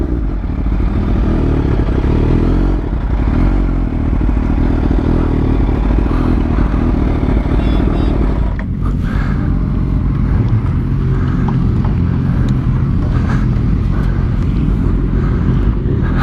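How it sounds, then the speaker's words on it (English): Motorcycles pull up close by, including a stretched turbocharged Suzuki Hayabusa, making a loud, continuous engine rumble and roar that shifts in character partway through as the bikes arrive. "We got some bikes pulling up."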